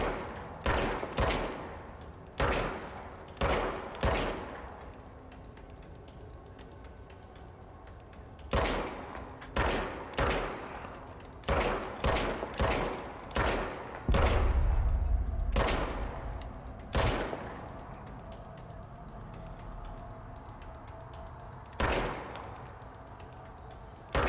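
Gunfire from the video game Control comes in sharp, loud bursts of single shots and quick clusters, separated by short pauses, with a low rumbling thud partway through and no talking.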